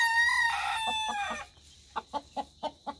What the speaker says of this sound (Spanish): Mire qué gallazo, qué gallito.